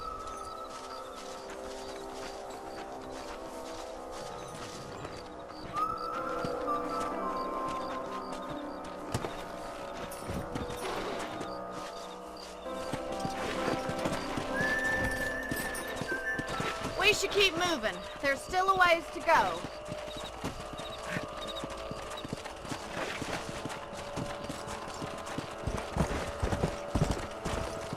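Steady clip-clop of horse hooves with occasional whinnies, under the Red Dead Redemption video game soundtrack with music; someone speaks briefly over the riding.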